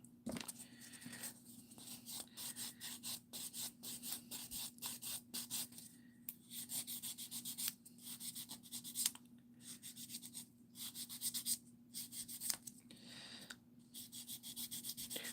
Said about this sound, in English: I am going to use this file. It's a 100, 180. It's a sponge file. And I'm going to use the 100 side.